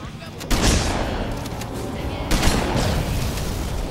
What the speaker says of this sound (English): Why the fuck are you shooting me